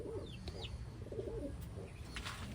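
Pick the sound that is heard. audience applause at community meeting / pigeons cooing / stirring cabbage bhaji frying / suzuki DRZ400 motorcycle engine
pigeons cooing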